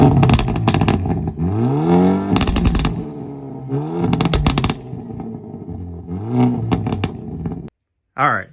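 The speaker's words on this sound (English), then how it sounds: "we're going to go ahead and inject a clip of just how loud the Elantra in mode is" Loud Hyundai Elantra N exhaust with an SXTH Element titanium midpipe, several bursts of revving with rising tones and rapid crackling pops, close and harsh, ending in a brief silence and one last short burst.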